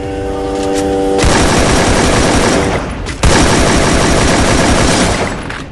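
Rapid automatic gunfire in a shooter video game, loud and sustained in dense bursts with a short break partway through before firing resumes.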